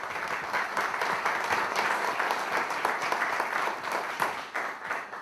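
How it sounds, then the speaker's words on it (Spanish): At a book presentation event, an audience gives a speaker a loud, sustained round of applause, many hands clapping densely and steadily throughout. "para quien pedimos un fuerte aplauso."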